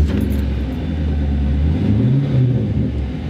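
A 24-year-old Corvette sports car engine burbles with a deep, throaty rumble, rising briefly as it revs before settling back to a steady idle.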